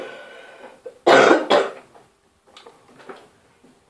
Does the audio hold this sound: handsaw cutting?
no